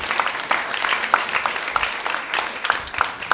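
A temple audience claps to honor the cooks of a community feast, a scattered patter of hand claps that rises and falls unevenly, fairly close and moderately loud.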